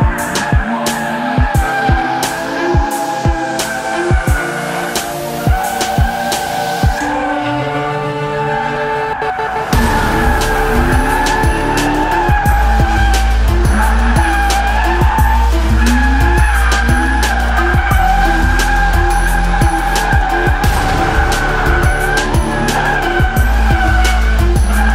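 A BMW drifting without the handbrake squeals its tyres loudly and continuously, the engine revving hard underneath with gear changes and rising and falling pitch over about twenty-five seconds, close and without talk.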